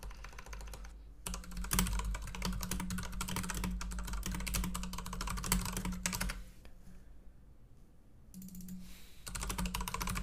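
Rapid, steady clicking of keys on a computer keyboard, close and continuous, with a brief pause midway before the typing resumes.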